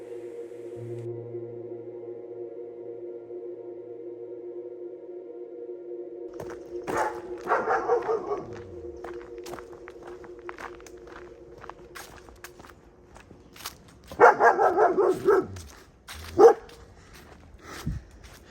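A dog barks in a few short bursts over a steady droning hum from a landing camera drone, with some rustling and footsteps nearby, on a woodland lane in Atherstone, Warwickshire.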